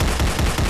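A dense, continuous burst of rapid gunshots in the horror game Last Bus Home, loud and close, with shots running together into one sustained roar.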